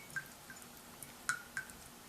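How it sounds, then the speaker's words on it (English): Water drips from a freshly watered orchid pot as it drains, a few sparse, light drops falling at uneven intervals over a quiet background. "Again, just letting it drip, drip, drip, drip."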